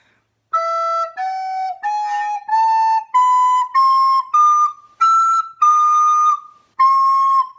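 A soprano recorder plays the top part of Carol of the Bells: a string of ten clear, breathy whistled notes stepping upward, each held briefly with small gaps, solo and close.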